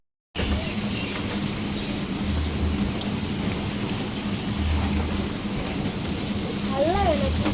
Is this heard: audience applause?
no